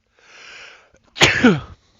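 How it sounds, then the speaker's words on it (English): A single close allergy sneeze: a soft breathy intake, a brief pause, then a sharp, loud burst of air. "Sneeze for a sec."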